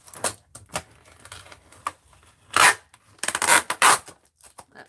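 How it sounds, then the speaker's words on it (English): Adhesive tape is torn off in short scratchy rips and tugs, several quick bursts followed by longer, louder tearing strips near the end, close by with no talking. "obnoxious noise of the tape tearing off here"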